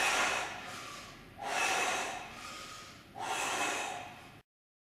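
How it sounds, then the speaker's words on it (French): Forceful breaths during supinated chin-ups: three loud, close breath bursts of about a second and a half each, evenly spaced, with brief quieter gaps between them and no talking. "je souffle en remontant vers la barre"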